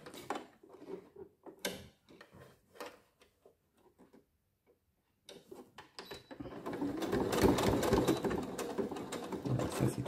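A sewing machine stitches a seam on fabric, running in a steady, fast, whirring stitch for the last few seconds after scattered handling noises and a short pause.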